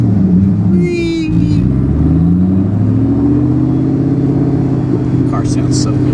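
A Paxton 5.0 car engine fitted with an On3 single 76/75 turbo kit hums steadily up close through a drive, with some brief voices over it.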